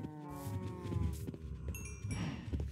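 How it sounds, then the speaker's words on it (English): Cows mooing on a farm in the video game Minecraft, several drawn-out lowing calls with harmonic tones overlapping one another, fairly close and steady across the whole moment, with no talking. "I feel like we're not gonna need that many cows."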